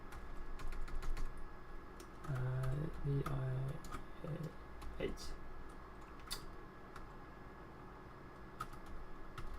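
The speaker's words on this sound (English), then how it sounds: "I'm trying to type on the keyboard on my spare computer" Keys tapped on a spare computer keyboard in irregular clusters, close and moderately loud, with a person talking over part of the typing.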